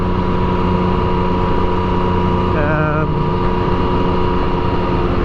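A Yamaha MT09 motorcycle engine drones steadily while riding on an empty country road, a loud constant rumble with wind buffeting, and a brief rising whine partway through.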